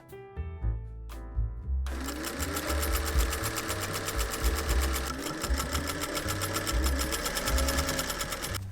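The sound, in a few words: sewing machine stitching waist casings on pajama pants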